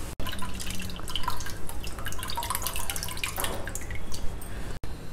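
Juice drips and trickles from squeezed tamarind pulp into a bowl while cooking, a steady close patter of small liquid drops with no speech.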